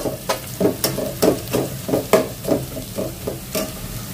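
Onions and a bay leaf frying in oil in a pan, giving a steady sizzle broken by regular stirring scrapes about every third of a second, close and moderately loud, with no talking.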